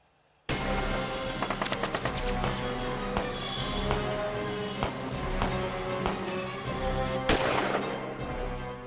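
Rapid bursts of gunfire crackle continuously in a street shootout in Lucknow, with sharp loud cracks and a heavy sustained roar, a few especially strong reports standing out.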